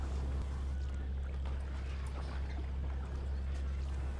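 Simulated boat engine and water in a docking game, steering into a slip at night against a northerly wind and southeast current, a steady low engine drone with faint wash under a spoken voice.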